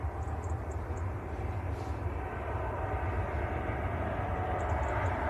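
A TUI airliner rolls for takeoff at Manchester Airport, a steady, fairly distant jet engine roar that builds slightly and holds without interruption.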